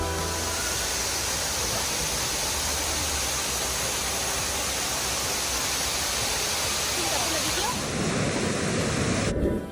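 A waterfall in the hills of South Korea gives off a dense, steady roar of falling water, loud and close, with no break for almost the whole stretch before it cuts off at the end.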